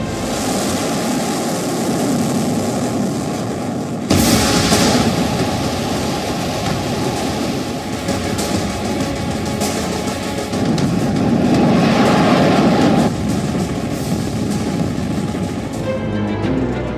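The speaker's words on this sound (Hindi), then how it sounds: "किम की चली मिसाइल।" A North Korean ballistic missile launch produces a continuous, loud roaring rumble that surges in intensity twice, heard alone without voices.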